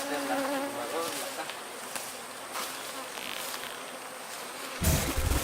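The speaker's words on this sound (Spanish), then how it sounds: "atrapar las abejas" A swarm of aggressive honey bees buzzes around a large hive full of honey, a dense continuous drone close to the listener, with a louder handling rumble near the end.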